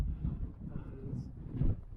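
Low, steady wind buffeting and rumbling across the microphone, with faint movement noises and a brief swell near the end.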